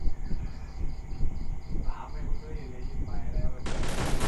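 Gunfire in the mobile battle game Free Fire, with rapid bursts of shots layered over a busy game soundscape and excited chatter from players.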